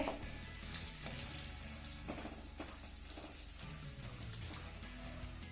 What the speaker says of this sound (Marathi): आता याच गरम तेलामध्ये आपल्याला एक वाटी शेंगदाणे घालायचे आता हे शेंगदाणे देखील आपल्याला छान असे खमंग खरपूस तळून घ्यायचे